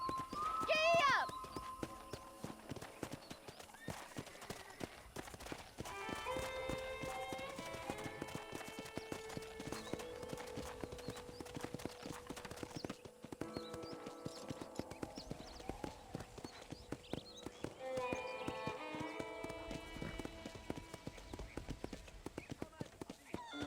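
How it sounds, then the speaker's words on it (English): Horse hooves clip-clop at a steady trot in a Red Dead Redemption ride, close and rhythmic throughout, with a whinny near the start and character dialogue and music running over it. "let's see if you can still ride a horse"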